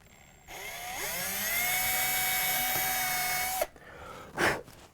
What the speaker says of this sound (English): Drill this next pilot hole.